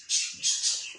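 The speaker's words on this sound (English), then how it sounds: "Sounds like I'm in a forest with all these birds." A few short, high squawking bird calls sound close together, brief and fairly faint.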